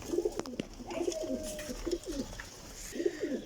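Ferozpuri pigeons coo close by in repeated soft, throaty rolling calls, several overlapping with a few faint clicks and rustles in the background.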